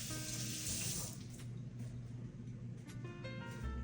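Tap water runs steadily into a sink while hands are wetted, a continuous close splashing rush with shifting tone as the hands move under the stream, no voices.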